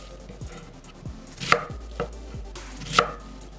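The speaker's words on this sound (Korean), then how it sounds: "양파 4분의 1개는 이렇게 썰고" A kitchen knife chopping a quarter onion on a cutting board while preparing a sauce for spicy cold noodles, a few quiet, irregularly spaced cuts with sharp thuds close by, no talking.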